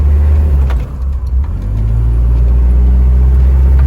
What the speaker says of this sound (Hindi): ये दोस्तों हम मोड़ मुड़ गए तो ये हमारी गाड़ी जो है वो चलते जा रही है।